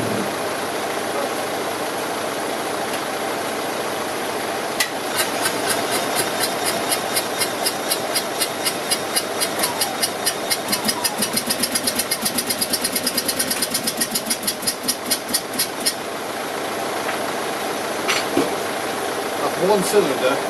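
An old Invacar engine that sat abandoned in a field for 14 years, running roughly on one cylinder, gives a steady mechanical chug with a run of rapid regular ticking in the middle, under background noise and occasional voices.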